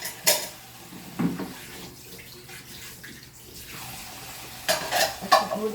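Dishes clink and clatter at a kitchen sink with running water rinsing between sharp knocks of plates and cutlery, close and busy, with no talk.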